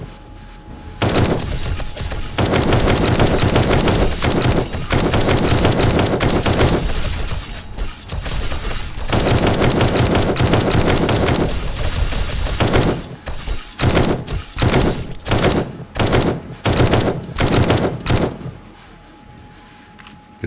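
Dense, loud gunfire from the survival video game 7 Days to Die, with long sustained bursts of rapid shots followed by a run of separate heavy blasts, then a brief quieter tail.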